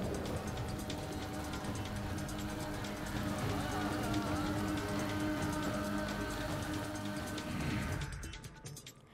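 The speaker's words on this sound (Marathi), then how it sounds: "रत्नागिरीत काही वेळेच्या विश्रांतीनंतर तुरळक प्रमाणात पावसाचा संततधार आता सुरू झाली आहे" Steady monsoon rain falls continuously in Ratnagiri, a dense broadband hiss of drops on surfaces that stays loud and even for most of the stretch before tapering off abruptly near the end.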